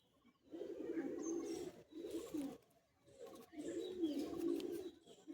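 Pigeons coo nearby in soft, throaty, rolling phrases, three bursts separated by short pauses.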